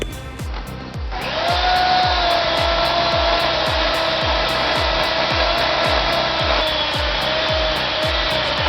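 A chainsaw starts up and runs at a steady high whine, its engine droning loudly and close while it cuts through wood, with rhythmic rasping strokes throughout.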